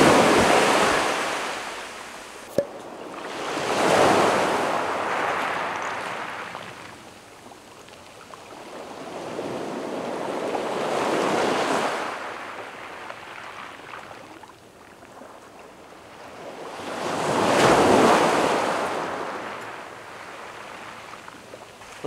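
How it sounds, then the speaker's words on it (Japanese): Ocean waves surge and break on a beach of an uninhabited island near Zamami, Okinawa, in three slow, loud swells, each rising to a crash and fading into a wash of surf, with wind noise throughout. "波の音がうるさい問題なので"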